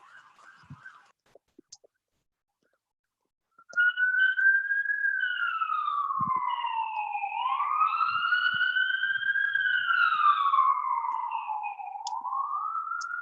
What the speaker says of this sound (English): There goes a siren.